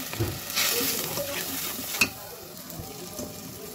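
Vegetables with salt, turmeric and chili sauté in a pan, giving a steady low sizzle broken by stirring scrapes and one sharp clink of a utensil.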